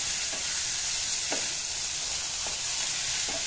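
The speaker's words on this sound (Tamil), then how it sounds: "இதை மூடி வச்சு நம்ம வதக்கலாம்." Betel leaf chutney ingredients sauté in a pan with a continuous soft hiss of frying and a few faint stirring taps, close and steady with no voices.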